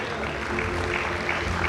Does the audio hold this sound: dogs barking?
no